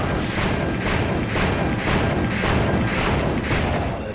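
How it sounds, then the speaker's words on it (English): Heavy cannon fire in an anime battle scene, a dense, loud barrage of booming blasts recurring roughly every half second, with no talk. "All cannons, prepare to fire!"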